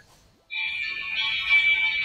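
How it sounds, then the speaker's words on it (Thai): An incoming call sets off a phone ringtone: after a half-second of near silence, a steady, bright electronic melody starts and plays continuously, loud and close, with no talking over it. "โทรศัพท์เข้านะครับ"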